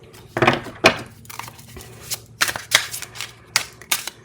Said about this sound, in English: All right, some tarot cards.